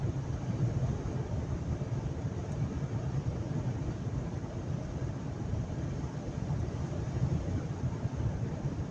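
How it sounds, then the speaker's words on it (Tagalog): Steady wind buffeting the microphone, a continuous low rumbling roar with no pauses, loud and close throughout. "Mahangin pa naman."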